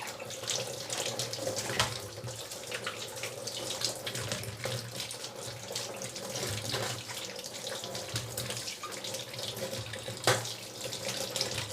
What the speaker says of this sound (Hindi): चलो धो लेते हैं टमाटरों को भी।